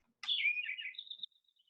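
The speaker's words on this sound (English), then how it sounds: "this is what the sparrow sounds like" A Lincoln's sparrow sings a single short song with a buzzy opening note that runs into a bright warble and trails off into faint high notes. It sounds clear and alone against silence.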